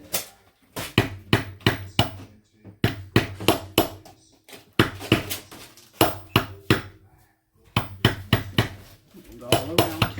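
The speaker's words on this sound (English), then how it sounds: "This is the heavy duty hammer, and this will give it a little bit more strength." Repeated sharp metallic taps from a heavy-duty hammer striking a small metal hoop earring, in quick bursts of several blows separated by short pauses.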